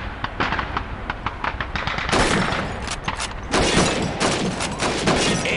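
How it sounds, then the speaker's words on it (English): A dense rapid volley of rifle shots at a shooting range in Call of Duty, with bottles and plates as targets. Fire crackles steadily for several seconds and swells into heavier overlapping bursts. "Shoot those bottles and plates."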